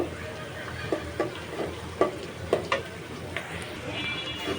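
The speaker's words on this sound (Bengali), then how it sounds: "এখানে আমি মশলাটাকে ভেজে নিচ্ছি" Onions and spices frying in oil for a curry, a steady sizzle broken by several sharp spatula scrapes and clacks against the pan, with a voice talking over the cooking.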